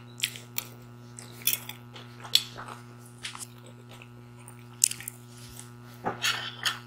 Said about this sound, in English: Coleslaw is nice and crunchy.